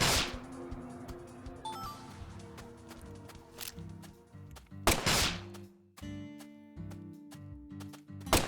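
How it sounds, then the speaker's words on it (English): Explosions and gunfire-like blasts in the video game Deadly Premonition 2, loud bursts landing near 0, 5 and 6 seconds over a dense layer of game music and effects. "I am killing them with explosions"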